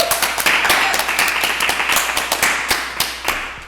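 Scattered clapping from a small group during a live 24-hour fundraising webathon, with sharp distinct claps in an uneven rhythm, fairly close and loud, gradually thinning out.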